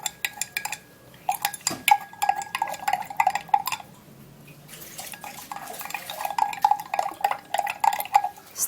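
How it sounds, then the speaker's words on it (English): A spoon stirs three ingredients, including salt, as a liquid mixture in a container, producing loud, rhythmic scraping and clinking strokes. After a brief pause midway, the fast stirring resumes. "And now we're going to stir the 3 ingredients together."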